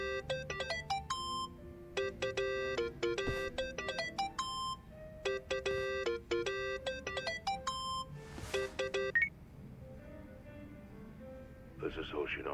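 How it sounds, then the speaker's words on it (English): A video game phone ringtone from Yakuza: Like a Dragon plays as a bright, repeating electronic melody in rhythmic bursts, loud and close over a steady game background, stopping near the end before a short electronic tone. "Think that's your phone."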